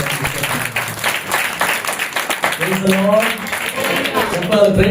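A church congregation at a gospel revival meeting claps, the dense patter of hands swelling under continuous amplified speech and bursts of singing-like voices, loud and steady throughout.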